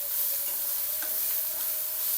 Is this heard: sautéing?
yes